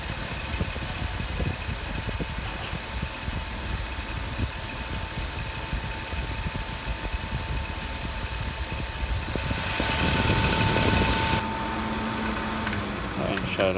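A Massey desk fan running on high gives a steady whirring drone with a faint tonal hum, and the sound shifts briefly near the end; quiet talk may sit in the background.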